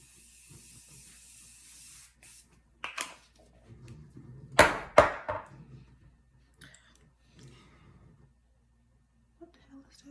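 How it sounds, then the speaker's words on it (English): A pink makeup setting mist is sprayed onto a face in a few short, close hissing bursts, the strongest near the middle, amid quiet clicks and soft murmured talk. "we're gonna go in with first a mist"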